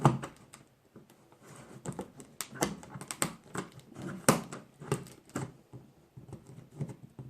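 Close-up irregular snipping and crinkling as packaging is cut, with scattered clicks and rustles coming in uneven bursts.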